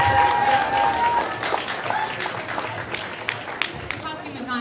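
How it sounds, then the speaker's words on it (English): Audience applause at a cosplay walk-on at Senshi-Con, a broad wash of clapping and crowd noise that gradually thins while an announcer speaks over it. "You guys can applaud after every person."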